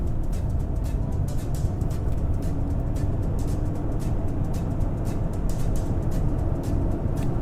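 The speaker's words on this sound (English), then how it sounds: "Stick the clutch down, put it in 3rd gear, off the clutch," Manual transmission car pulling away in third gear, heard as a steady, broadband engine and road drone from inside the cabin, constant and fairly loud throughout with no talk.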